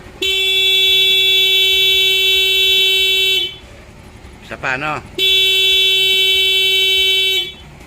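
A motorcycle horn blares in two long steady blasts, loud and close, with a short spoken phrase in the gap between them.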